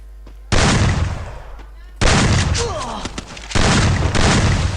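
Shotgun blasts in an online shooter game, loud close booms in separate bursts, some fired in quick pairs over game effects, with a player's voice speaking in between.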